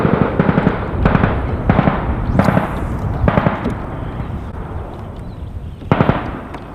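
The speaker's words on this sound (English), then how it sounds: "You guys are gonna have to bear with all the gunshot noise." Distant gunshots from the West Point Military Academy ranges crack in irregular bursts, some in quick doubles and triples, with echoing tails between them, heard from a kayak on the water.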